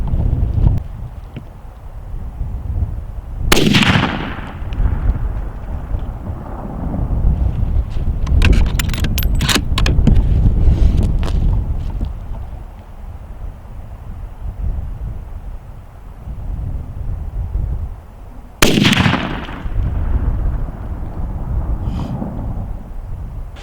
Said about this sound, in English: I took 3 or 4 shots